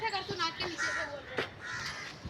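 A crow caws several times in short harsh calls, fairly close, with people talking at the same time in the background.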